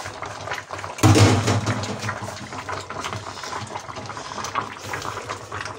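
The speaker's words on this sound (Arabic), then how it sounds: "نزيد شويه الما" Water gushes into a cooking pot while Eid couscous with lamb neck is prepared, a sudden full pour that settles into a steady, close splashing fill.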